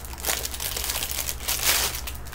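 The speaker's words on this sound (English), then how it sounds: "here's the crinkling." Close crinkling of plastic packaging around a washing-machine lint catcher, a quick burst of dry rustles and crackles that swell and fade over a couple of seconds, with no one speaking.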